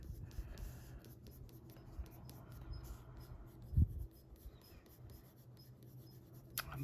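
Pencil sketching an outline on tan paper, a soft, quiet scratchy rubbing with short strokes and one brief louder tap, close up and with no talking.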